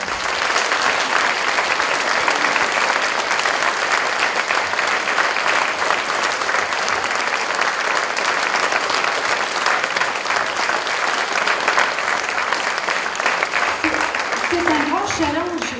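Audience applause fills the whole stretch, a dense and steady wash of clapping that stays loud throughout and thins slightly only at the very end.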